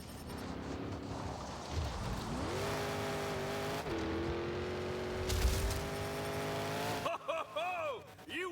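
A monster truck engine in the Monster Jam Showdown video game drones steadily and climbs in pitch, with tire noise and a brief burst near the end, while a voice talks over the final seconds.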